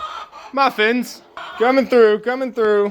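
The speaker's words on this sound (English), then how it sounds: "Good morning, chickens." Chickens clucking inside a barn in the morning, a string of loud, close, harmonic squawks and clucks in quick bursts, with a person briefly speaking among them.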